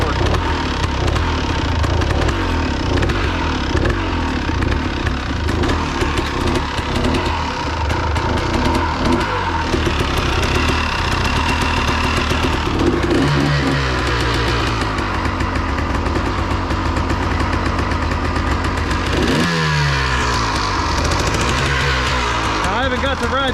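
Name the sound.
Ford 4000 tractor engine running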